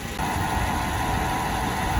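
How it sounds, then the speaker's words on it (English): A 2003 Nissan Altima with the 3.5 engine runs steadily close by, a continuous even drone with no clear rise in pitch and no talking. "Okay, I'm gonna rev it up a little bit."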